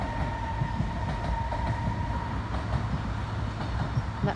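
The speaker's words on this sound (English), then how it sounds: "And that's the train just going past." A local commuter train to Munich rumbles past in the distance, a steady low rolling rail noise with faint rhythmic clatter, heard from a town park.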